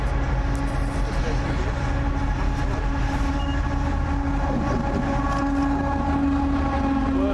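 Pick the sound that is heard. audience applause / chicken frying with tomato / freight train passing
freight train passing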